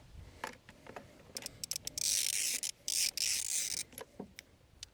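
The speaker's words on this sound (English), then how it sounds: "take your spark plug that's nice and warm, let's put it back in" A spark plug is threaded back into a small outboard motor by hand, giving close, scratchy rubbing and rasping bursts with short metallic clicks, loudest in a sustained stretch midway.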